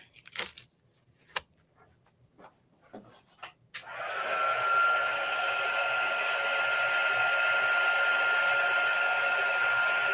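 After a few scattered paper rustles and taps, a heat tool starts up and whirs steadily in a loud, continuous drone, drying ink on a paper craft page.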